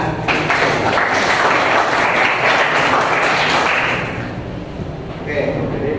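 Classroom applause during a lesson on patents and trademarks, a dense burst of clapping for about four seconds that fades and briefly picks up again, with some voices mixed in.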